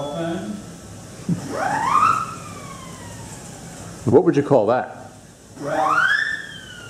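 Rising and falling siren-like whistle swoops from a 17-rank pipe organ effect, loud and close, with a voice speaking briefly between them.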